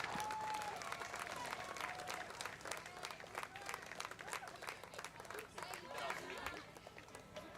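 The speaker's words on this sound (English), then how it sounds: "Give a round of applause to 2nd overall in the competition and 1st" Outdoor crowd applause for a relay medal team at a schools orienteering championship, dense steady clapping that holds at a fairly even level throughout.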